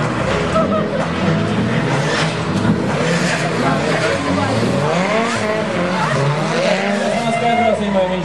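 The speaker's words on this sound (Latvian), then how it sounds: "Diemžēl šis brauciens sagriežās un apstājās trasē Andrijus Ceriešus." At a drift series event on a track, a drift car spins with a loud, sustained tire squeal and revving engine that wavers in pitch, all under a commentator speaking throughout.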